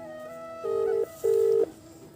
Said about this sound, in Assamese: ফোন লগাইছোঁ